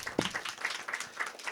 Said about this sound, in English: Big round of applause for Harshad.